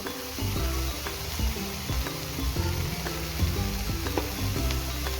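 Bitter gourd fry sizzling and being stirred in a hot pan after garlic and dry-coconut powder goes in, a steady close crackle with rhythmic spoon scrapes, no voices.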